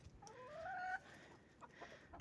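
A rooster gives a short, faint crow-like call followed by a few soft clucks, heard alone in a quiet setting.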